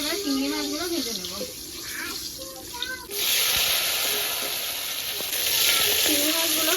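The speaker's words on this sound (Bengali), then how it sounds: "বন্ধুরা তেলটা গরম হয়ে গেছে, এবার চিংড়ি মাছগুলো ভেজে নেব।" Prawns drop into hot oil and sizzle in a steady, bright hiss that swells partway through and stays loud and continuous, with someone talking over the early part of the frying.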